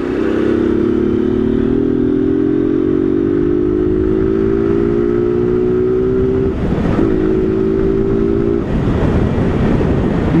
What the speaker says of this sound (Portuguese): A moto tá andando bem, galera.